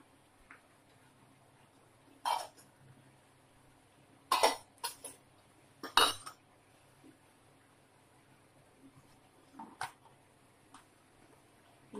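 A person coughs several times in short separate bursts while a simple tamarind chilli curry cooks nearby, the coughs loud and close against a quiet kitchen background with a faint steady tick.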